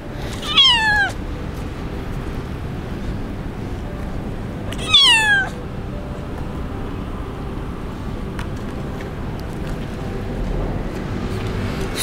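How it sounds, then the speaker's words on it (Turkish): Two loud, close meows from an abandoned street kitten arrive about four seconds apart, each a short rising-and-falling cry over steady low outdoor rumble. "Niye miyavlıyorsun?"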